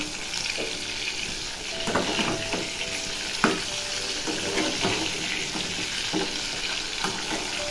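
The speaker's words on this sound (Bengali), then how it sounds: "এই যে মাছ ভাজা হচ্ছে" Pieces of fish frying in a pan at home sizzle steadily up close, with occasional clinks and stirring sounds on top of the continuous hiss.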